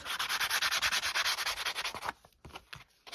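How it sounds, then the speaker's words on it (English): Sandpaper scrubs the paper edges of a junk journal page in quick, rhythmic strokes, close and fairly loud for two seconds before breaking into a few lighter, scattered rubs. "I'll just use my sandpaper. I will sandpaper my edges."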